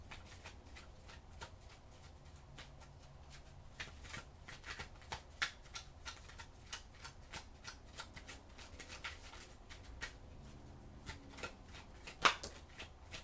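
Tarot cards being shuffled by hand, a quiet, continuous run of crisp riffling flutters and soft slaps at close range, with no talking.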